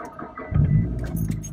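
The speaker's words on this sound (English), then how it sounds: "Start your engine." A car engine cranks and catches, rising into a low rumbling idle inside the vehicle, with a faint jangle of keys at the start.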